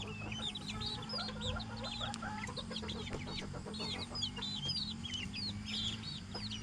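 Bantam chickens cluck continuously in a coop converted from a storage shelf, with many short overlapping calls over a low steady hum.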